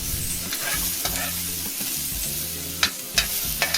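Small shallots sautéing in oil in a pan for a red bean gravy, sizzling steadily up close while a utensil stirs and scrapes with a few distinct knocks toward the end.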